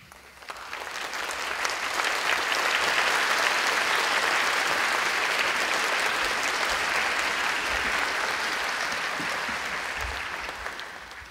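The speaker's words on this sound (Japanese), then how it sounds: "皆様、大きな拍手でお迎えください" A lecture audience applauds to welcome a gorilla researcher onto the stage at a prize commemorative talk, a broad even roar of many hands swelling up, holding steady, then tapering off.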